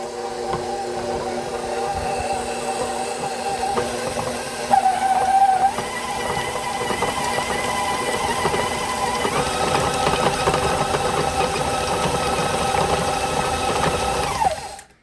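Electric hand mixer whirring steadily while blending a white cheddar and cranberry cheeseball mixture with chives and parsley, a continuous close motor drone with a brief pitch change partway through.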